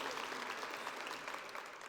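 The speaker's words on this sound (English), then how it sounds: "I wasn't expecting applause." An audience at a city-county Dr. Martin Luther King Jr. Day observance applauds, a soft, steady wash of clapping from a crowd at some distance.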